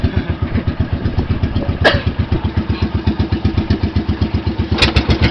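Two boat engines running off Pundaquit, Zambales: a steady, loud, even chugging pulse throughout, with a couple of brief sharp knocks over the top.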